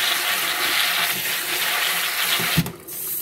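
Running water splashes steadily over freshly picked raspberry leaves being rinsed outdoors, a continuous close wash with a brief louder splash near the end.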